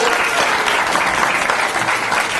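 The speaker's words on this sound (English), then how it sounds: "Give yourselves a round of applause and thumbs up." Dense, sustained applause from a lecture audience of students fills the whole stretch, a steady loud wash of many hands clapping at once with no break.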